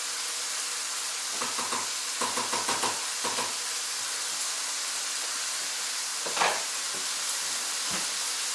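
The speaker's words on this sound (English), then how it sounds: "Give that a stir through." A spoon stirs diced tomato through dal in a cooking pot, giving a series of soft wet scraping and clinking strokes in bursts, fairly quiet against a low steady background hiss.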